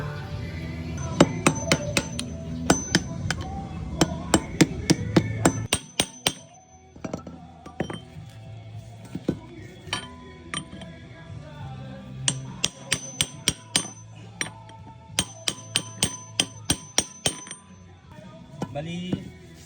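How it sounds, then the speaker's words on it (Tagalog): Metal hammer blows on the ball race bearing of a Honda Click 125 scooter's steering head, struck gently in quick bursts of sharp, ringing clinks with short pauses between groups, close and clear. "Bali pukpukin lang natin dahan-dahan."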